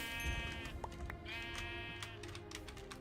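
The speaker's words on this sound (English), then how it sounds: "We're murdering the sheep." Several sheep bleat in quick succession in the Minecraft video game, fairly close and clear, with a few soft footstep-like taps mixed in.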